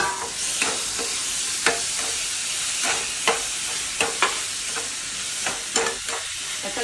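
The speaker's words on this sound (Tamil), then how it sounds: "தக்காளி போட்டு நல்லா வதங்கட்டும்." Potatoes and tomatoes sauté in a hot pan with salt, a continuous close sizzle punctuated by regular spatula scrapes and knocks as the mixture is stirred.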